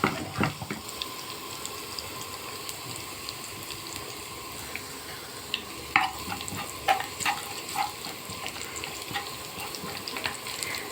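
Garlic sizzles in a pan of cooked lentils and vermicelli with a moderate, steady crackle, broken by scattered stirring clicks and small splashes near the pan.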